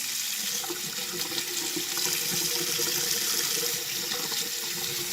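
Tap water runs steadily into a sink as warm water is drawn for washing a vintage Ideal Toni doll's hair, a continuous hissing splash with no talking over it.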